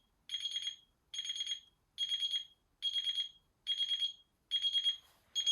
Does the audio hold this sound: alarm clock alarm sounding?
yes